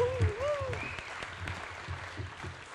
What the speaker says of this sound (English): that is the after lunch clap